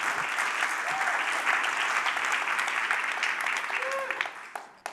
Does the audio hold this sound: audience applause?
yes